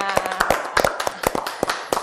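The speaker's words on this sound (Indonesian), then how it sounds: "Tepuk tangan dulu dong buat semuanya" Applause for award winners at a finance awards podcast event, heard as a short burst of scattered, uneven hand claps from a small group, close by, with no talk over it.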